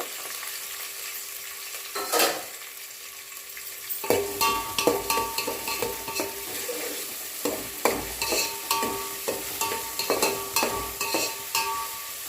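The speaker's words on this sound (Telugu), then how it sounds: "రెండు ఉల్లిపాయలు కడిగేసుకొని చేసుకొని ఆయిల్లో వేసి కలుపుకోవాలి" Two chopped onions fry in oil for a chicken and chukkakura curry, a steady sizzle punctuated by repeated scraping stirs of a spoon against the pan, close and clear with no talking.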